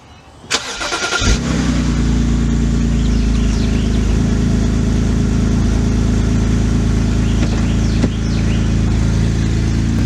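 A BMW E82 128i engine cranks briefly, catches and starts, then settles into a loud, steady idle with a slight rev, close up and with no talking.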